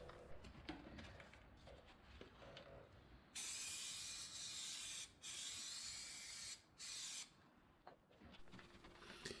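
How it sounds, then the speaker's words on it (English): Chain cleaner sprayed onto a drive chain in three close, hissing bursts of a second or more each, with quiet mechanical handling sounds before and between. "I apply chain cleaner to the chain, and then again scrub it"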